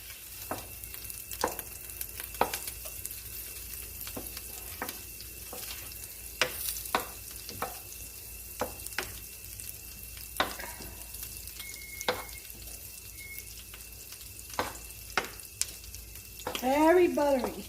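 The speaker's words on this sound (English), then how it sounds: "In that same pan, you're going to melt in 5 tablespoons of butter." Five tablespoons of butter melt in a pan on medium heat for a garlic chicken and vegetable casserole, sizzling steadily at close range with scattered clicks and pops, a few scraping stirs and a brief clatter near the end.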